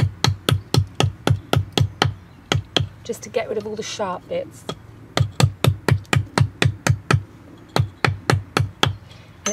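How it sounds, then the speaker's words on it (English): A hammer bangs in a fast, steady run of sharp knocks along the edges of a wooden bee hotel, pausing briefly while someone speaks, then resuming its regular pounding. "What you can do is you can use the hammer and just bang down along the edge,"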